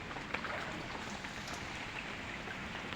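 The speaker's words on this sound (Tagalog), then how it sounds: "Ang lakas ng baha." Strong floodwater rushes past as a faint, steady broadband wash of water noise with scattered splashing, continuous and unbroken, with no talking.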